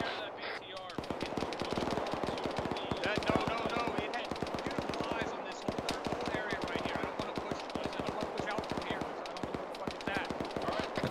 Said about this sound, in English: I heard an enemy machine gun to the southeast